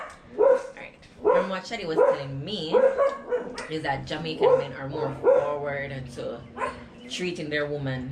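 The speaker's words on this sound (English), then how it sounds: "excuse the dogs barking. We are outside filming," Dogs bark outdoors behind a conversation, with intermittent yips and woofs sitting under steady close speech throughout.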